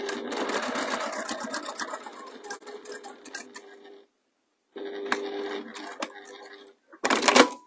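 A sewing machine stitches a pie crust cushion in close, steady bursts of rapid mechanical ticking, pausing briefly in the middle before starting again, with a sharper clattering run at the very end.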